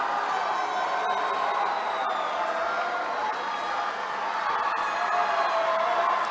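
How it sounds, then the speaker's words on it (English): A team cheers and whoops steadily from the stands at a 4A state swim final, a loud sustained roar of crowd voices echoing through an indoor pool arena for several seconds. "now it's a chance for their team to return it and cheer for them"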